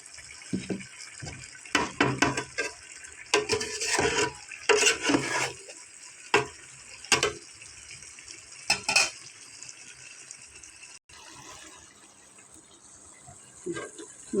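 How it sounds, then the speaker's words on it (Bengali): Spiced water is poured into meat frying in a pan and stirred, giving bursts of splashing, scraping and sizzling at irregular intervals. Toward the end the sound settles into a softer, steady simmer. "আমি মশলা দেওয়া পানিটা দিয়ে দিই।"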